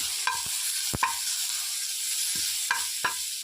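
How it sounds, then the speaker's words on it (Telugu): Garlic and cumin paste fries in a pan with a steady high hiss of oil, punctuated by several sharp scrapes and knocks of a spoon stirring, close and without speech. "ఎల్లుల్లిపాయ జీలకర్ర పేస్ట్ చేసుకున్నది కొంచెం వేపాలండి"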